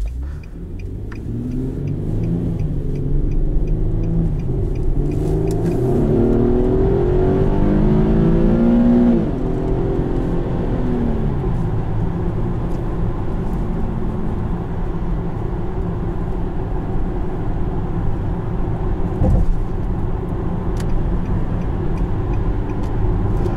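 A 2017 Infiniti QX70 Limited with a 3.7-litre V6 and seven-speed automatic drones steadily from inside the cabin while driving, rising in pitch as it accelerates mid-way, then settling into a constant cruise hum.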